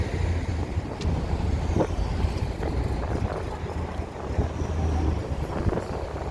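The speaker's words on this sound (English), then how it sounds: "It's a little bit windy now." Steady wind gusting on a downtown Chicago street near Michigan Avenue and North Lake Shore Drive, a continuous low roar buffeting the microphone with faint city traffic in the background and no talking.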